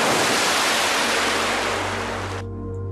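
River water rushes loudly and steadily as a broad, noisy flow that cuts off abruptly near the end, leaving a low hum; no talk is heard.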